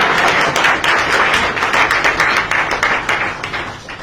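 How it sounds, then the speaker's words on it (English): Audience members at a government speech in Sierra Leone burst into sustained applause, dense overlapping claps close and loud, tapering slightly toward the end. "Now you can clap."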